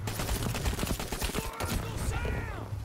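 Pistol shots in the Call To Arms video game, a rapid burst of sharp cracks through the first half, over a constant low game rumble and other battle noise.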